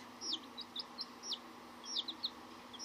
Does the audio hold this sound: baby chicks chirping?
yes